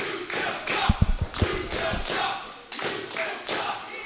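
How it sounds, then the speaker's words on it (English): Wrestling crowd at a HELLSEEKERS match chanting rhythmically at Flip Gordon, repeated swelling vocal bursts roughly every second, mixed with heavy thuds from the ring early on. "Apparently the crowd telling Flip Gordon that he still sucks."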